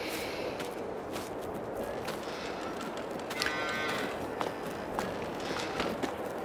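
Cows in Farming Simulator 22 moo several times over a steady background of footsteps and shuffling, the lowing fairly close and irregular.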